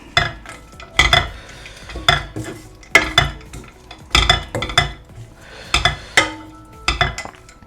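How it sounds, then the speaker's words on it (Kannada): A spoon stirs lemon rice in a pan on a stove that has been turned off, giving repeated sharp scrapes and clinks against the metal at a steady rhythm. The sounds are close and loud, with no voices. "ಸ್ಟವ್ ಆಫ್ ಮಾಡಿಬಿಟ್ಟು ಜಸ್ಟ್ ಮಿಕ್ಸ್ ಮಾಡ್ಕೊತಾ ಇದ್ದೀನಿ"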